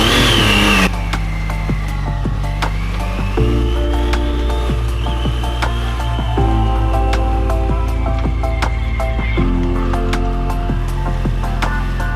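Triumph Daytona 660 motorcycle engine pulling hard through several gears, each climb in revs ending in a shift drop, loud and close while riding, with wind noise and no talking.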